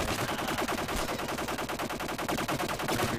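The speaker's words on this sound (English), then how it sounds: "You're still shooting a lot." Rapid automatic gunfire from a Modern Warfare 2 team deathmatch on the Scrapyard map, a dense unbroken rattle of shots filling the whole stretch at steady loudness.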